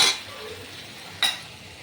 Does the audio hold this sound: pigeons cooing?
no